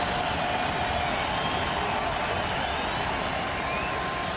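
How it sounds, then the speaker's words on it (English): Dense, steady roar of a large football crowd at Toronto FC's first home game, loud and continuous with a broad wash of cheering and noise, and no clear breaks. "And just listen to this crowd."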